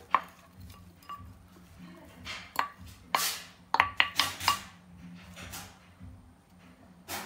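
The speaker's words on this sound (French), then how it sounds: "dans le tagine je vais mettre l'oignon" Chopped onion tipped into an earthenware tagine for a chicken and olive tagine, heard as a series of soft knocks and scraping clatters from utensils against the pot, close and fairly quiet.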